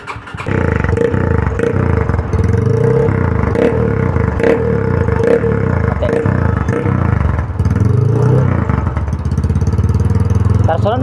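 A Yamaha Scorpio Z motorcycle with an aftermarket exhaust revs loudly close by, its throaty engine rising and falling in repeated throttle blips, with people talking over it.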